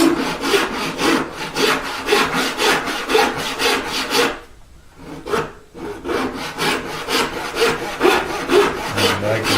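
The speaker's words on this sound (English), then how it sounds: "I'm going to go ahead and do a test cut." An unwaxed hand saw makes a test cut in guitar wood with loud, close, rhythmic back-and-forth strokes. It pauses briefly midway, then resumes the same steady sawing pace.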